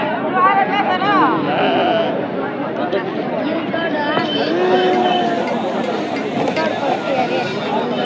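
Sheep and goats bleat repeatedly in wavering cries at a sheep market in Angallu, Annamayya district, Andhra Pradesh, several animals close by, with people's voices chattering underneath throughout.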